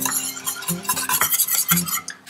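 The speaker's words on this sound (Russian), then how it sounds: "Включаю средний огонь и буду уваривать смесь, все время помешивая, для того, чтобы не пригорело." A spoon stirs a cream mixture for a Napoleon cake as it cooks over medium heat, with repeated scraping strokes against the pot, close and rhythmic, with no voices.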